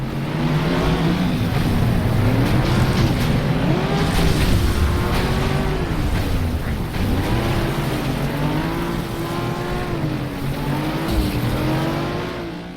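Engines drone and rev steadily through a FlatOut video game race, pitch rising and falling as cars accelerate and shift gears, with brief tire squeals, loud and continuous throughout.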